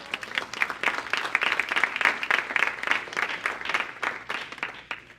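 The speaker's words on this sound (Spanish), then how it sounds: "Denle un aplauso al Señor" Congregation clapping during a church service, a lively, rhythmic round of applause from a crowd that pulses steadily and then tapers off near the end.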